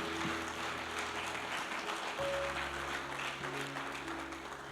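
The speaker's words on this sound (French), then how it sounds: "J'aimerais qu'on acclame, étant assis, la parole de Dieu." A seated church congregation at a Sunday worship service claps together in sustained, steady applause, with a low droning tone beneath it and no voices.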